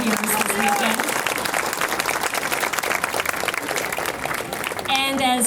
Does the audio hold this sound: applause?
yes